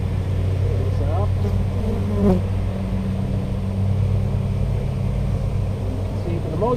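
Honeybees buzz around a beehive being prepared for winter, a steady, dense hum close to the microphone with faint rumbling underneath, continuous throughout.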